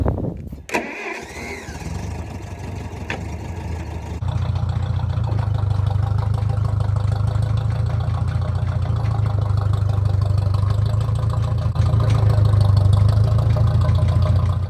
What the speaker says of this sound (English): So we're gonna back up the tractor and put on the next set.